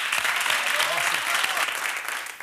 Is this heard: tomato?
no